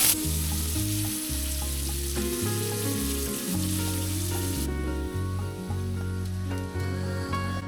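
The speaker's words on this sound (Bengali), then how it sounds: "আমি প্রথমে মাংসের আলুটা ভেজে" Potatoes for a meat curry frying in hot oil, a steady close sizzle with a stirring scrape now and then, running loud and unbroken throughout.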